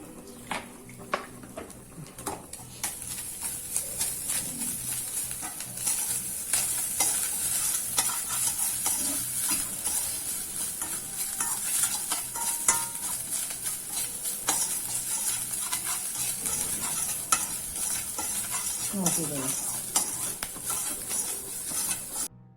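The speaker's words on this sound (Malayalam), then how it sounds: "എരിശ്ശേരിക്കുള്ള തേങ്ങ വറുത്തോണ്ടിരിക്കുകയാണ്." Grated coconut roasts in a pan for Kerala erissery for an Onam sadhya, stirred constantly; a continuous dry sizzle with frequent close spatula scrapes and scattered clinks, no talking.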